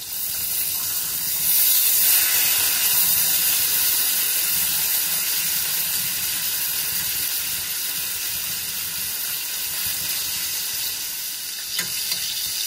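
Beef steak frying in a pan for a toasted-bread steak and egg dish, a steady loud sizzle and hiss that holds evenly throughout with a few small pops near the end.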